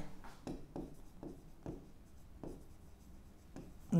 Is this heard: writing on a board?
yes